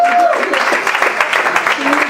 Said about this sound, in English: give a round of applause and support and tips and love to your waitress